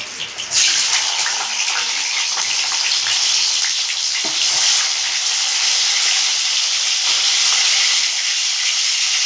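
Rain pouring outdoors, a dense continuous hiss like water rushing steadily, fairly loud and unbroken, with no talking.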